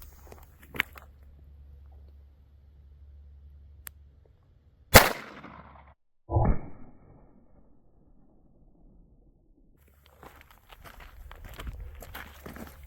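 .22 Magnum rounds fired outdoors at cheap body armor, two sharp cracks several seconds apart with a short ringing tail, between quiet stretches, faint shuffling and rustling.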